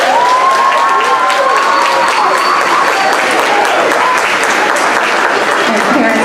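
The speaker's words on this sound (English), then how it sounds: "Let's give them a round of applause." A school STEM event audience claps loudly and continuously for a group of pre-K, kindergarten and first-grade children, with cheering and crowd voices mixed into the sustained applause.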